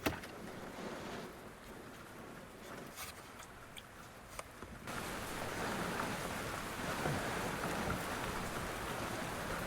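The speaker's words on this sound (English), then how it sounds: "You hear the rain sound?" Rain patters on a parked Subaru Legacy B4 at night near Mt. Fuji, a soft, steady hiss of drops on the car that grows slightly heavier partway through, with no voices.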